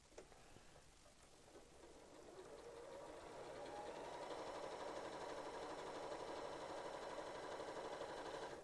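A sewing machine stitches pieces of a Churn Dash quilt block, a soft whir that ramps up and settles into a steady, fast hum, faint and alone.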